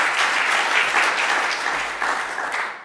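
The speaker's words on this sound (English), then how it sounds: "It's lovely when people clap." Steady audience applause fills a chapel service, dense and continuous at close range, tapering slightly toward the end with no voices over it.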